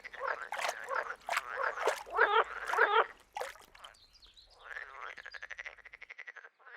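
Frogs croaking around a dammed-up beaver pond, a run of loud, close, pulsing calls in bursts, ending in a rapid rattling trill.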